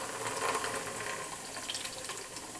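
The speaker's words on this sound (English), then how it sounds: "So I'm going to pour in our evaporated milk." Evaporated milk poured steadily into a bowl for a zucchini pie custard, a continuous close liquid splashing and trickling with no talking.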